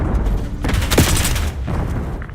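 A Semtex grenade explodes in a video game shootout, a loud close boom followed by rolling rumble and scattered gunfire.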